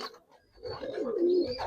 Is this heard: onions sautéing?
no